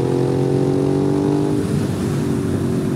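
A 2005 Suzuki SV650 motorcycle engine pulls at low revs, a loud, close, steady droning rumble with a rising tonal whine throughout, under wind noise and with no talk.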